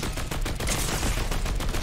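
Dual pistols firing two simultaneous shots at a time in Fortnite, a dense burst of rapid gunfire filling the whole moment, loud and close with no voices.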